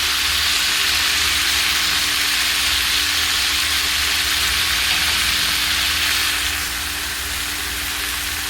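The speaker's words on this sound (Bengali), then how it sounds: "পাঁচ থেকে 6 মিনিট কাঁঠালটা কষিয়ে নেব মশলার সাথে।" Jackfruit frying with spices in a pan gives a loud, continuous close-up sizzle with a steady hiss that eases slightly toward the end, and no one talks.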